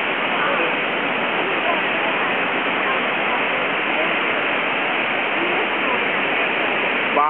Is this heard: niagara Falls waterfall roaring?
yes